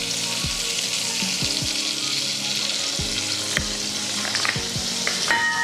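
Oil fries steadily in a pan with butter for a home recipe, a continuous close sizzle with occasional stirring clinks and no talking.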